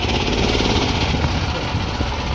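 Dune buggy engine held at full throttle with a slipping clutch during a first test ride, a loud, steady, rough drone that stays constant throughout with no breaks.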